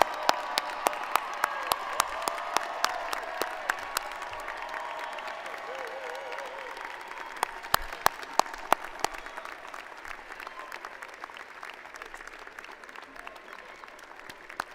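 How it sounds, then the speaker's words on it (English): A standing ovation for the graduating class of 2026 at a university law school spring commencement fills a large hall with sustained, dense applause and crowd noise, a few sharper claps standing out near the front, while a voice speaks briefly over it. "one more standing ovation for the class of 2026"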